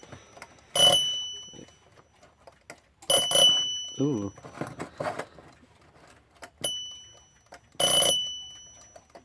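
A Westclox Goodmorning alarm clock rings in several loud, bright bursts separated by quieter stretches of mechanical clicking and handling, with a brief voice exclamation in between.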